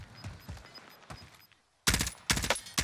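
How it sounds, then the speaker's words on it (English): Gunfire in a battle royale game, with faint distant shots early on, a brief silence, then several loud, close sharp bursts of rapid firing. "They're both shooting."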